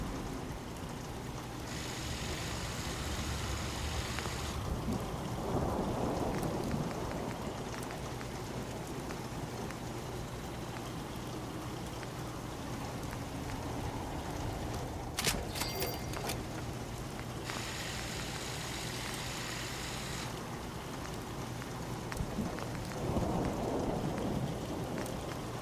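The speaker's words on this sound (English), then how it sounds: "this rain lets up soon" Steady rain pours throughout a Fallout 4 wasteland thunderstorm, a dense even hiss with a low rumble of thunder underneath and a sharp crack partway through, no voices.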